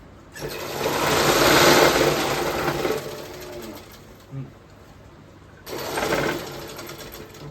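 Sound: sewing machine stitching a quilt made from old saris

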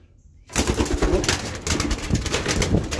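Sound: pigeon cooing

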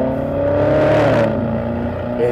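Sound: 2023 Porsche Cayenne V8 exhaust under acceleration

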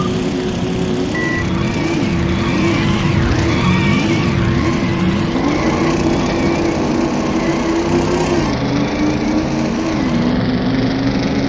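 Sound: car driving and skidding in Midtown Madness video game

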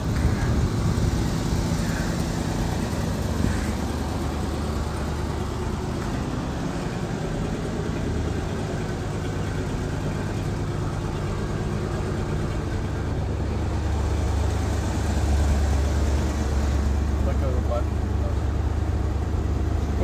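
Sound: 1966 Ford Thunderbird 428 V8 engine running

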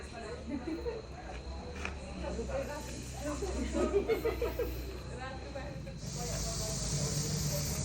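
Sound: snake hissing

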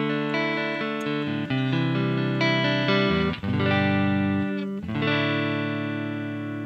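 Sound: electric guitar clean tone through CSS pedal

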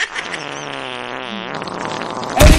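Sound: fart

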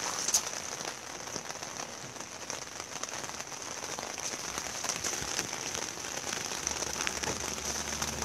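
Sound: rain falling

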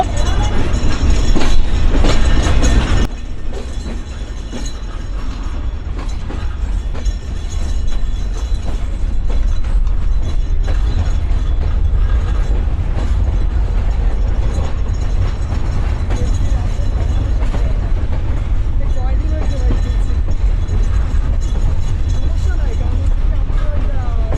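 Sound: train departing Pakshi railway station

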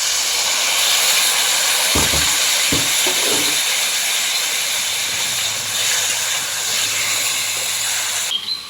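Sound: potatoes frying in spices, sizzling after water is added

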